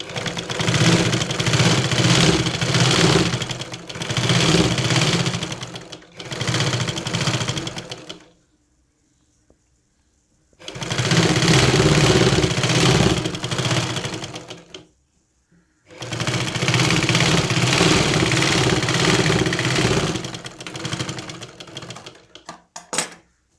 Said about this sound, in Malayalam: അപ്പോൾ നമ്മൾ നെക്ക് അടിച്ചെടുത്തു